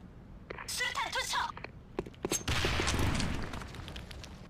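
Gunfire in a first-person shooter video game, with a few sharp shots and a burst of rapid fire, followed by a noisy rush, mixed with game voice lines.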